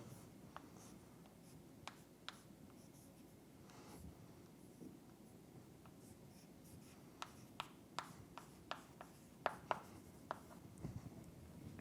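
Chalk or marker tapping and scratching on a board during a math lesson: soft, irregular strokes and sharp little taps, getting busier toward the end, quiet against a hushed room background.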